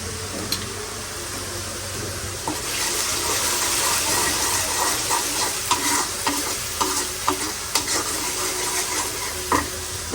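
Blended onion frying in a pan on a stove makes a bubbling, wet sizzle that swells after a quieter start, punctuated by repeated scraping stirs and sharp spoon clicks, close and without talk.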